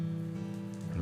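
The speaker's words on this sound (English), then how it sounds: "the rain just continues to pick up and get stronger" Heavy rain pours down outside in a steady, dense hiss that holds at an even loudness without any break.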